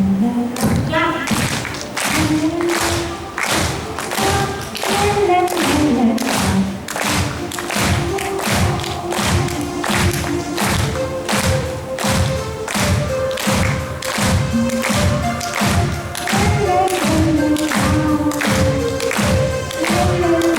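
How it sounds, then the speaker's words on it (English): Rhythmic clapping at a steady, quick beat runs the whole stretch, loud and close, while a voice sings or chants along over it. "Clap."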